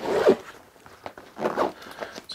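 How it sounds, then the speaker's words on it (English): A zipper on the side pocket of a TARION PB 01 backpack is pulled open in a few close, quick rasping strokes, alone. "the zip can get a little bit stuck"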